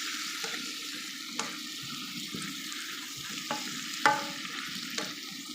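Soaked sotanghon noodles stirred and frying in a pan, a steady close sizzle broken by repeated scraping stirs and a sharper clack near the end.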